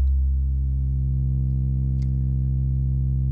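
A sawtooth wave runs through a modular voltage-controlled filter as the cutoff is swept upward, a steady, loud, buzzy synth tone that brightens slightly, with a brief click near the two-second mark and no voices.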